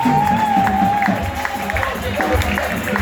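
Congregation at a church service applauding loudly, a dense burst of clapping and crowd noise with voices talking over it.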